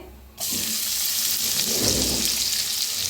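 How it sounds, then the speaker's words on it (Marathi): A spoonful of cumin seeds dropped into hot oil bursts into a loud, steady sizzle after a quiet start and continues crackling without pause. "तेल तापलेलं आहे त्याच्यात टाकूया जिरा"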